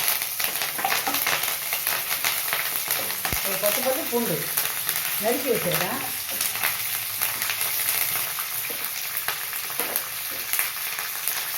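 Spices and garlic sizzle and crackle steadily in hot oil in a pan while cooking a spicy quail pepper fry, with a few clinks of a spoon and someone speaking over the frying.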